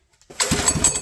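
A small Honda GX200 engine catches and runs, a brief close mechanical chug that rises within the first half second and holds a rough, pulsing note.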